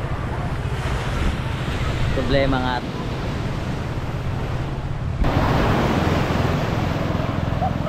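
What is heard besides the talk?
overflowing river water rushing toward the sea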